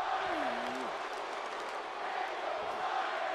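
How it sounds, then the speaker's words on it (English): Game crowd in a WWE 2K18 wrestling arena cheering for Bryan during a match, a steady broad roar of voices throughout, with a commentator's voice briefly rising over it near the start. "Crowd still trying to cheer on Bryan here."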